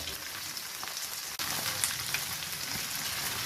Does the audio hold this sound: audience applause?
no